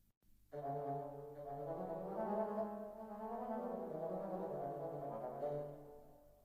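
Orchestral woodwinds from the Cinematic Studio Series library play a sustained, legato phrase without the spiccato overlay, a soft, smooth run of held notes with no talking.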